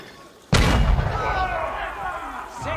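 A single heavy cannon blast booms from Age of Empires artillery in a Hundred Years War battle at Formigny, 1450. It strikes loudly and abruptly, rolls into a long decaying rumble, and a second fainter thud follows near the end.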